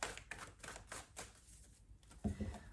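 Tarot cards being shuffled for a spread, a soft, rapid riffling in repeated bursts, quiet and close, with a short pause before a final flurry.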